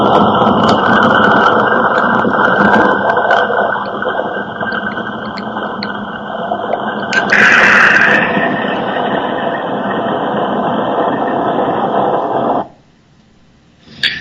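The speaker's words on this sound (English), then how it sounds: "If I say quenching rain drenched my burning head, it will sound like this." A machine-generated soundscape built from a text prompt about rain drenching a burning head plays as a dense, hissing wash with a steady high tone, a brief brighter burst midway, then cuts off abruptly.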